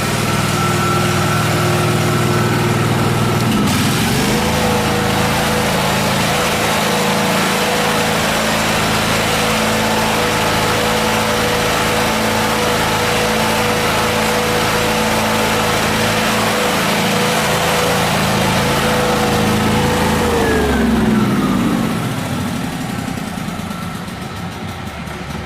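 Miller Trailblazer welder engine running steadily after a repair, a loud continuous drone with a stable pitch that changes near the end as the engine note drops and fades.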